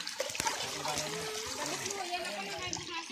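Water splashes and trickles as children bathe, a steady wet churn under lively nearby voices and children's chatter.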